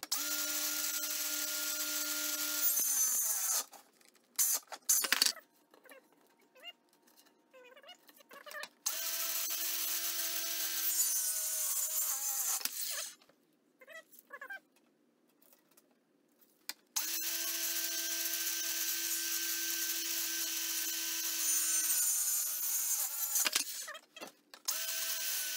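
A power saw cuts wood for a TV box cabinet in three long, steady, loud passes separated by quiet pauses, close by with no talking.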